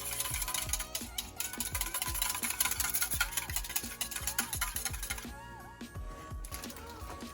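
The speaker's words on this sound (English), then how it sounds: "we will be whisking it just to mix what we had before" Beignet batter being whisked in a bowl, a quick run of sharp rhythmic clicks and taps against the side, steady and close, with a music bed playing underneath.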